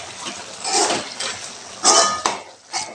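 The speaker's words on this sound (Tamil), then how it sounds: "நல்லா கலந்து விட்டுக்கலாங்க." Spoon scraping and clanking against a pot while mutton curry with chilli powder is stirred, a few irregular metallic scrapes and knocks, close and fairly clear with no talk.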